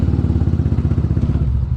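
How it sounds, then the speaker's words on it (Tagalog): A warmed-up motorcycle engine idles close by with a steady, rapid thumping putter, even in rhythm and loud throughout. "napainit ko na yung makina ni Mia"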